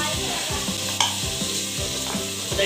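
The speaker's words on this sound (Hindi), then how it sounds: "इस सब मसाले को मैं अच्छे से भून लूँगी" Spice masala fries and is stirred in a pan for a curry, a close, continuous sizzle broken by rhythmic scraping strokes of a spoon, with no voices.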